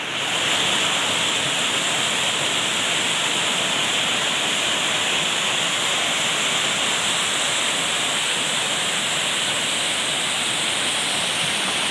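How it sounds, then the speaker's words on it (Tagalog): Libtong Falls in Barangay Buli pours in a steady, loud, unbroken roar of rushing water that stays even and close throughout, with no voices. "Libtong Falls po."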